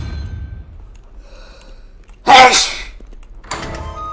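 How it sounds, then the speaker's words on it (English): A single sharp sneeze from a person bursts out loud and close, followed by a short breathy exhale, with otherwise quiet room sound around it. "Oh my god, can I stop sneezing, please?"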